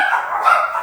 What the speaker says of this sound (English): Sorry, excuse my dogs.